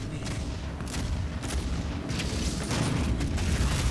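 Dense, continuous crackling gunfire and booms from a freeze tag video game with machine guns, a busy unbroken battle din at steady moderate loudness with no talk over it.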